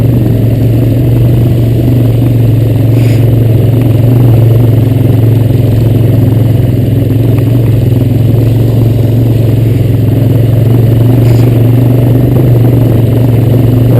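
A 2013 Honda Recon ES ATV idles close by in sporty exhaust mode with a steady, throaty exhaust drone, constant and loud throughout with no talking.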